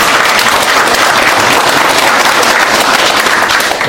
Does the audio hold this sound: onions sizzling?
no